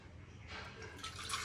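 Water from soaked cooked rice being poured out of a vessel, a faint, soft continuous trickle and splash lasting about a second and a half, with no voices.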